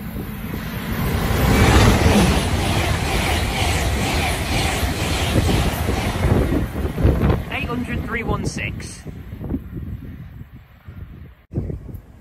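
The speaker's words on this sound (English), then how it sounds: "Passing through now is a Great Western Railway service from Swansea to London Paddington." A Great Western Railway service from Swansea to London Paddington rushes through Goring & Streatley station at speed, a loud roaring whoosh with wind buffeting that fades away.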